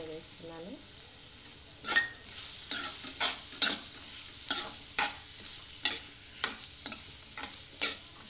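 Boiled peas are stirred into a frying hotel-style aloo kurma, with a spoon scraping the pan in a regular series of about a dozen close scrapes over a soft background sizzle.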